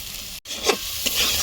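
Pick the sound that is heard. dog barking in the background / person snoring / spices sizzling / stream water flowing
spices sizzling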